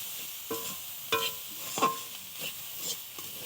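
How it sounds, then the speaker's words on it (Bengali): Prawns frying in oil in a pan: a quiet, steady sizzle broken by soft, intermittent scrapes and clinks of stirring, with no voices. "দেখো এইরকমভাবে লাল লাল করে ভেজে তুলে নিতে হবে"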